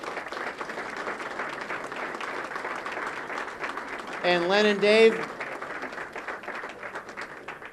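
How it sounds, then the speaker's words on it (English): An election night crowd in North Haven claps for winners Len and Dave, a steady dense wash of applause throughout, while someone speaks briefly over it in the middle. "They both deserve a round of great applause"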